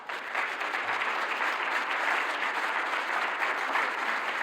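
Steady audience applause at the closing plenary of the EOSC Symposium 2024 honours Sarah, a dense, even wash of many hands clapping that holds at a fairly soft level throughout without any speech.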